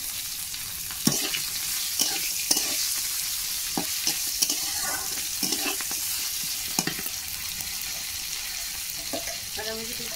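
Crabs and jackfruit sizzle in a hot pan while a spoon stirs and scrapes through them, with repeated clattering strokes over a steady close frying hiss.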